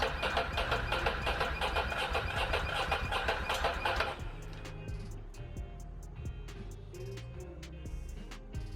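A Ducati Monster 800 motorcycle, unrun for four years, cranks with a fast whirring starter for about four seconds, then catches and settles into a steady, lumpy idle with rhythmic ticking, close and fairly loud.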